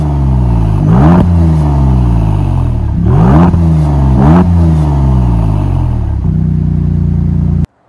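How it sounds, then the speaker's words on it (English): A loud, throaty twin-turbo V6 exhaust on a 2023 Maserati MC20 in Corsa mode revs repeatedly, climbing and dropping in pitch over and over, then settles into a steady idle before cutting off. "let's hear the beautiful exhaust note out of that twin turbo V6"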